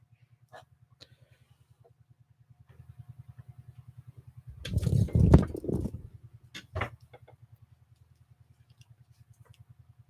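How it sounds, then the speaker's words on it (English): A motorcycle's low, rapid engine idle putters steadily in the distance at night, with a louder burst of rumbling and clatter midway before the idle continues. "Do you hear the motorcycle?"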